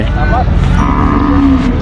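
Cattle moo at a busy Thai cattle market, with a long, loud, low moo rising out of a dense backdrop of animal calls and crowd noise.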